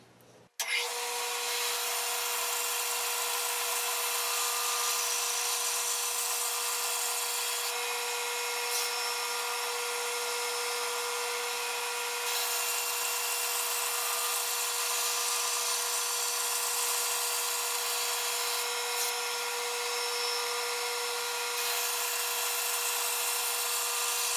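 Continuous steady whine of a saw slicing glued wood boards into rings for a small segmented bowl, loud and unbroken from start to finish after a brief quiet onset, with no talking.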